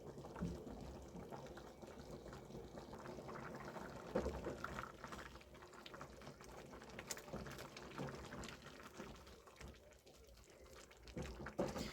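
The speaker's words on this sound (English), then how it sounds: "It's boiling already." Steady bubbling and churning of water boiling in a pot of black beans, a continuous busy texture throughout with occasional louder pops.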